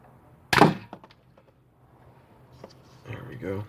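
A homemade CPVC dart pistol fires with one sharp close thunk, followed by small clicks and a brief voice.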